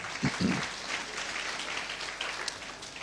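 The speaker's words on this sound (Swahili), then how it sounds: "Tumpe Yesu makofi mazuri." A church congregation claps together during an Easter sermon at a Moravian church in Mbalizi, a soft, steady patter of many hands that continues for the whole moment without a break.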